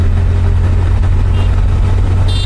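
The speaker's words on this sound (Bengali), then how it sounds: "আস্তে আস্তে করে আমি একটু বাড়াচ্ছি আমার বাইকের স্পিড" A motorbike picking up speed on the road, its engine droning steadily up close under a dense rush of wind buffeting the rider's microphone.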